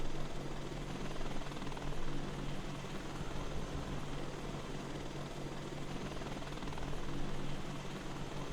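A Chinook helicopter flies low over Livonia at night in a flight game, its broad rotor roar constant and loud throughout with a steady churning drone and no voices.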